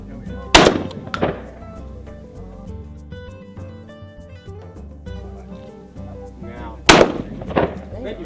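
Shotgun shots at an outdoor clay shooting course in Lajitas, Texas: two sharp, loud blasts, each quickly followed by a second shot, separated by several seconds of background music.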